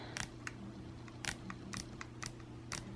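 A camera's control dial is turned to change the shutter speed, giving a series of sharp, quiet, irregularly spaced clicks close by over faint background hum, with no voice.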